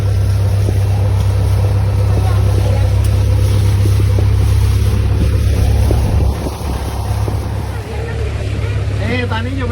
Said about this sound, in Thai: ตอนนี้เรือออกจากท่าเทียบเรือมาแล้ว